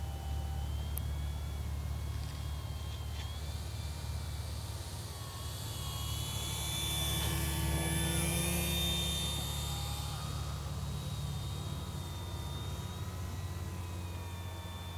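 A Durafly Tundra RC model airplane on a 4-cell 2200 battery pack drones through the air, its electric motor a steady whine that swells as it passes nearer midway and then eases off, heard over a constant low background rumble.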